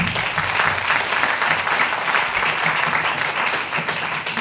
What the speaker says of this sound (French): On peut applaudir Raoul Zaba.